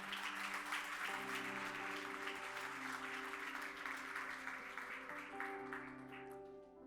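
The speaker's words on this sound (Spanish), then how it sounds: "Dale ese fuerte aplauso al Señor." Sustained church congregation applause for the Lord, a dense wash of many hands clapping together with steady organ or keyboard chords held beneath it, fading slightly toward the end.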